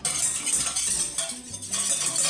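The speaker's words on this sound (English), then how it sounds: "We are going to go ahead and mix this." A spoon whisking and clinking steadily inside a bowl while Irish cream ingredients with organic almond extract are mixed, continuous close scraping and tapping with a faint background hum.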